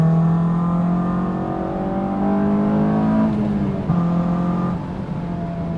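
Heard from inside the cabin, a Honda S2000 with an Invidia Q300 exhaust accelerates, its engine note rising steadily in pitch through the gears with a brief dip at a shift, loud and droning.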